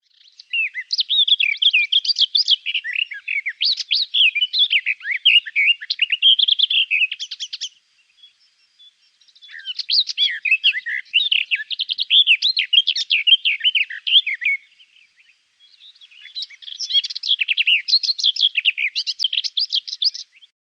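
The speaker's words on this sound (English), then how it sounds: "if you're in a woodland setting and you hear a hard, tacky type sound, you're probably hearing blackcap" Blackcaps calling in woodland: bursts of bright, rapid chirping and warbling notes, clear and fairly close, in three long phrases separated by short pauses.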